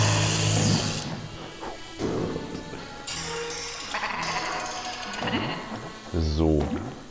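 Sheep bleating in the video game Escape Plan, a few wavering bleats close up, loudest near the end, over a busy layer of game music and effects.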